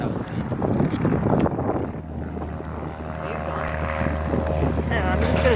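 An aircraft going around at CYOO airport drones overhead, a steady propeller-engine roar at moderate distance that swells slightly, with people talking and some wind noise on the microphone.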